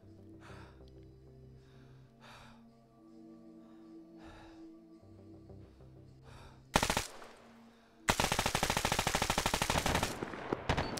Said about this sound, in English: His MG is running low on ammo.